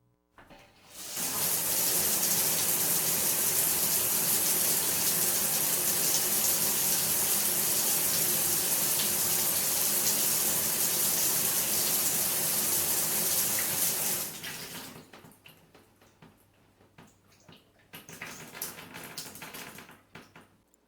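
Shower water runs in a strong, steady broadband hiss for about thirteen seconds, then stops, leaving quieter drips and a short trickle.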